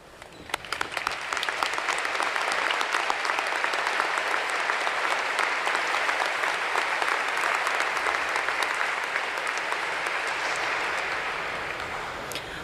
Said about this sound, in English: Please stand and join me in a round of applause for those who helped us get here